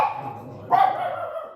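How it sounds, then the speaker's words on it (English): Dogs indoors barking at a shadow in a window: a single sharp bark rising over a low room hum, fairly near. "the dogs see the shadow in the window. So I apologize for their barking."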